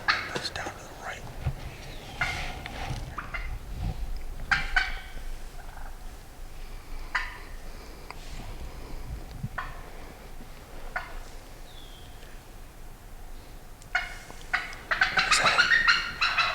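Wild turkey calls and gobbling sounds come in scattered bursts amid quiet woodland ambience during a turkey hunt, with soft whispering voices in between.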